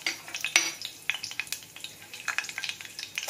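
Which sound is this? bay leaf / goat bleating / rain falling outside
bay leaf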